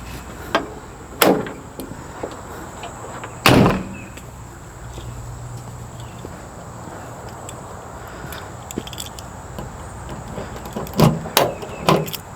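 The door of a 1973 Dodge B100 Sportsman van with a 360 V8 is handled, giving a few loud, sharp metallic thunks and clunks spread across the clip, with quieter rattles between them.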